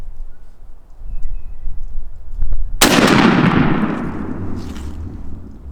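A shotgun with a turkey load fires once at a pattern target sixty yards out, a sharp loud blast followed by a long rolling outdoor echo, after muffled handling noises.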